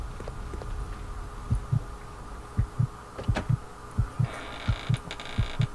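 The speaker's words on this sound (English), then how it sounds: "I don't know, what's with the heartbeat" Steady, rhythmic double-thump heartbeat in the video game Resident Evil Code Veronica X, about ten deep pulses over a low hum, with a brief higher tone partway through.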